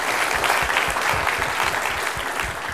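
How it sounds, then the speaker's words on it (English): An audience at an entrepreneurship course lecture gives a round of applause for a sponsor: continuous, even clapping from a sizable crowd, held at steady loudness throughout. "if you could just give a round of applause for CIBC to thank them for their generous sponsorship"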